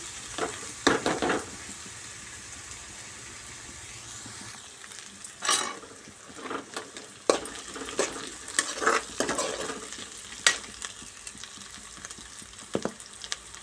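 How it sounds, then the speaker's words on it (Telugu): Onions fry in hot oil until golden for a mint and onion curry, a steady sizzle running beneath repeated sharp scrapes and clinks of a spoon stirring against the pan, up close with no talking. "గోల్డెన్ కలర్ వచ్చే వరకు మంచిగా ఫ్రై చేసుకొని"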